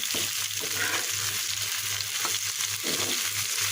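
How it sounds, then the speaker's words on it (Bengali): Pointed gourd, skin on, frying in a pan, a steady crackling sizzle with a low hum underneath and occasional soft stirring scrapes. "আমি পটল ভাজা করছি"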